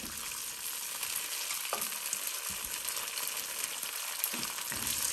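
Pine nuts toasting in a pan give a steady, close sizzle and crackle, with a few light stirring scrapes and knocks, alone without talk.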